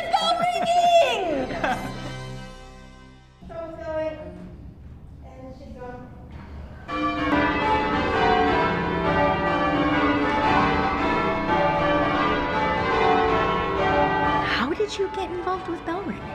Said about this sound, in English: Let's get to the bell ringing!